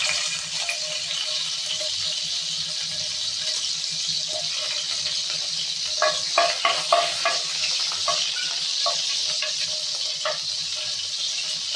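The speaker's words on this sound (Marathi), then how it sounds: "तेल तापलं आहे, त्याच्यामध्ये आता लसूण घालून घेऊया" Garlic frying in hot oil for a Koli-style prawn curry, a steady mid-level sizzle with a short burst of quick stirring scrapes in the middle.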